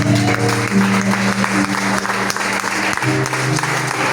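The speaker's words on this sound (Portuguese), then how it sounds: "aplauda Jesus bem forte" A church congregation applauding loudly during a worship service, dense clapping over sustained organ-like tones and murmuring voices, steady and near throughout.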